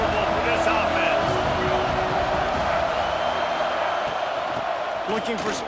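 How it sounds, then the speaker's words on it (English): Dense, steady roar of a stadium crowd at a college football game, Florida at Oregon, loud and constant throughout with scattered shouts, while a commentator talks over it. "This crowd trying to make life miserable for this offense."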